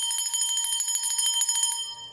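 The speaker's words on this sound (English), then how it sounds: "So I'm ringing the bell to scatter any opposing energies" A small bright bell is rung rapidly in a fast, even trill for nearly two seconds, close and clear, then stops and its ringing fades.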